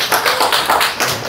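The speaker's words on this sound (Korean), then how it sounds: "이것도 박수 한번 부탁드릴게요" A workshop audience at a hair salon company event applauds, a steady patter of many hands clapping at fairly close range for a moment, with no talking over it.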